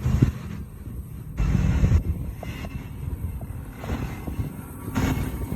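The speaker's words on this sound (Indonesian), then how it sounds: "Waduh, anginnya sangat-sangat besar sekali." Heavy wind batters a cyclist's microphone on a long road ride, producing a deep blustery rumble that comes in loud surges separated by slightly calmer moments.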